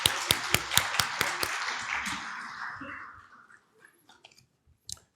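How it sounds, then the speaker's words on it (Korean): An audience at a conference on the marine and fisheries outlook claps, with a few sharp hand claps leading into a brief, moderate round of applause that fades out within about three seconds, followed by scattered faint knocks. "그럼 박수 부탁드리겠습니다."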